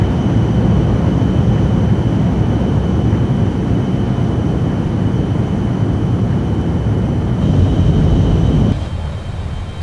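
Steady, loud jet engine roar from an NF-104 SuperStarfighter in a flight video game, a continuous dense rumble with a faint high whine that drops off abruptly near the end.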